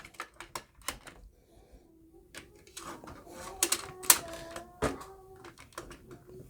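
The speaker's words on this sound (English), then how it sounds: "So you just put them in there, and they click in there just like that." Small plastic toy missiles snapping into the rocket pods of a G.I. Joe Sigma 6 DragonHawk dropship, giving a series of light, close plastic clicks and clacks in an irregular rhythm, with a brief voice in the background.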